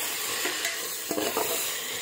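Tomatoes stirred into a frying black pepper chicken gravy, a constant loud sizzle with a couple of short scraping stir strokes near the end, close by and without speech.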